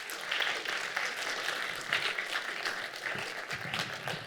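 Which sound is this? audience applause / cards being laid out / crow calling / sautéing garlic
audience applause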